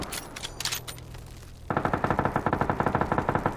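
Automatic gunfire in the video game PUBG on a winter map, a fast, loud, evenly spaced burst of rapid shots starting abruptly and continuing to the end, with no talking.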